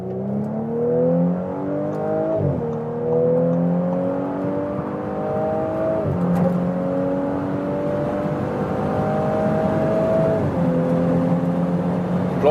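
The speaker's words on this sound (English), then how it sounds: "That's the way we can also test in Europe still this 3-liter V6 petrol in the Audi." A 3-liter V6 petrol engine in an Audi S5 convertible pulls hard at high speed, its tone climbing steadily through several gears with brief dips at each upshift, loud and close inside the cabin, with wind noise and no talking.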